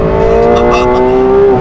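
A V12 engine pulls hard under acceleration while the car is driven, a loud close drone with the pitch climbing slowly as someone talks over it.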